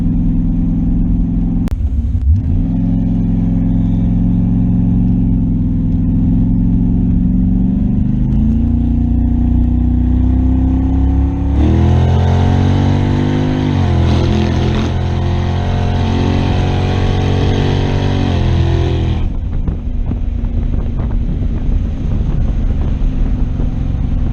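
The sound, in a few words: Chevrolet Camaro engine revving, floating the valves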